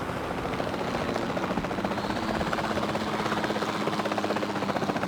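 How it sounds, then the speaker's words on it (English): A helicopter flies in the video game Jurassic World Evolution 2. Its rotor gives a steady, loud, continuous chopping whir throughout, with no talk over it. "Let's get in a chopper and get us some dinos."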